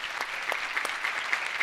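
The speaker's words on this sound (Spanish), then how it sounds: "Un aplauso para ellos." A church congregation in Acapulco applauds during a service, a short stretch of dense, steady clapping heard at moderate distance with no speech over it.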